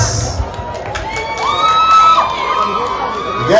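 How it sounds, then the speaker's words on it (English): A crowd of children and adults at a dance performance cheering, shouting and whooping for a group, busy layered voices with whistles and shrill calls, close and lively throughout. "a big round of applause for our 7th group,"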